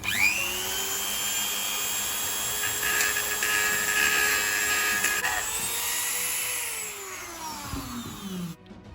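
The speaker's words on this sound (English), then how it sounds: "You'll have to basically cut it. So we'll try using a Dremel." A Dremel rotary tool cuts through plastic stiffeners inside a VW Polo 6R cabin, a high continuous whine with pitch dips as it bites, close and loud, winding down near the end.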